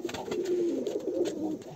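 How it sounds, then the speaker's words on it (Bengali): Male fantail and Sirazi pigeons cooing, a close series of low throaty rolling coos over about two seconds, clear and alone. "ময়ূর কবুতরের নরটাও ডাকাডাকি করতে আছে তাদের দেখিয়ে"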